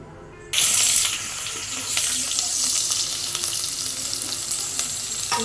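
Onions dropped into hot ghee and oil for mushroom biryani set off a sudden loud hissing sizzle that carries on steadily and close up, with faint stirring knocks underneath.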